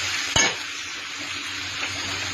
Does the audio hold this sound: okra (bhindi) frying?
yes